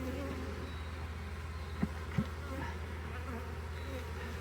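Honeybees and drones from a swarmed hive buzz softly in a steady, low hum, with a couple of brief, louder passes from individual bees flying close.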